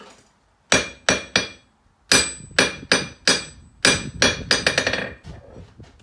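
A hammer strikes the face of a new blacksmith anvil, set on a backyard stand with a band around it and bedded in liquid nails, giving sharp dead clanks with no ring. Isolated blows come first, then a quicker irregular run of strikes, close and loud.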